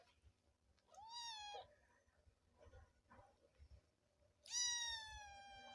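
A house cat meows twice, a rising-falling cry followed a few seconds later by a louder, longer one, close by, with soft handling noises and low rumble between.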